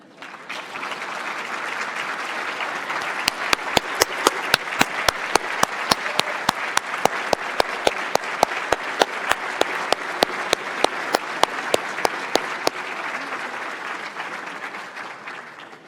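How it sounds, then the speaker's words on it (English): An audience at an engineering academy's annual meeting applauds the families of newly inducted members. The clapping is sustained and even throughout, with sharp individual claps standing out near the microphone before it fades at the end. "I ask that the members of that class applaud them for their efforts"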